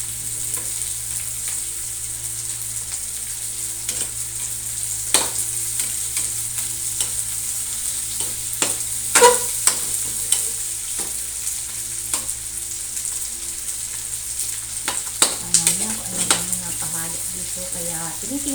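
Onions frying in a pan while cooking banana blossom, a steady close sizzle with repeated scrapes and clinks of a utensil stirring against the pan.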